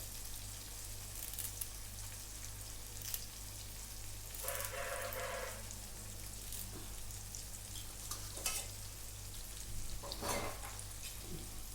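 Home-grown curry leaves sautéing in hot oil, a soft continuous sizzle with occasional louder crackling bursts, joined by a low steady hum and a faint rooster-like call in the distance.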